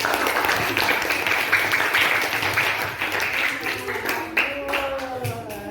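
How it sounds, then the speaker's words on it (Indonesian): Classroom applause for group 2 after presenting, a steady spread of clapping from students that thins toward the end as a voice begins talking over it. "Kasih tepuk tangan"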